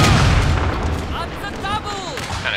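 Musket volley fire by rank in a Napoleonic-era strategy game, a dense crackling roll of distant shots over a low rumble, with whistling tones drifting through and a voice talking over it.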